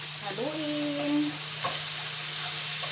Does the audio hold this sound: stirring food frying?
yes